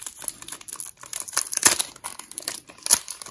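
A Pokemon card booster pack crinkles and tears open in close, loud bursts of foil rustling with sharp ripping peaks and brief pauses between pulls.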